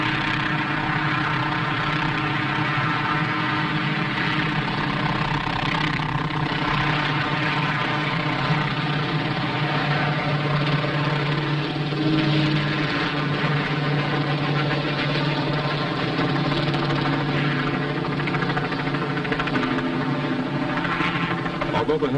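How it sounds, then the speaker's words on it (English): Helicopters flying overhead while fighting a wildfire, dropping 400-gallon water loads; a steady, continuous rotor and engine drone with a low throbbing pulse holds at constant loudness throughout, without talk. "Here come the choppers"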